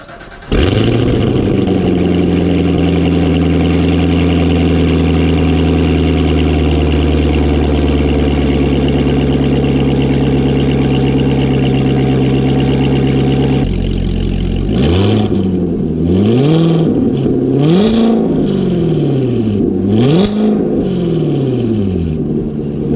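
A Corvette ZR1 engine fires up from cold after a week of sitting and settles into a loud, steady, deep idle, then several sharp revs rise and fall near the car.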